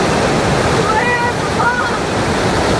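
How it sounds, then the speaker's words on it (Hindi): Strong rushing water at a waterfall in the Naran Kaghan area roars loudly and continuously, a dense, unbroken wash of sound with no pauses. "इतना तेज़ पानी यहाँ से बह रहा था"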